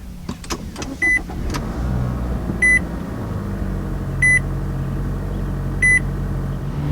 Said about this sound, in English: to start up the Altima, every single model will come with push button start